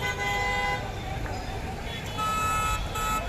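Car horns honk repeatedly amid steady road traffic as a crowd returns in vehicles from a Congress party event in Fatehabad, Haryana, with voices mixed into the busy street noise.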